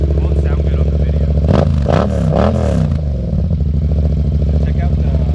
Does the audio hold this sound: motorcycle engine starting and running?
yes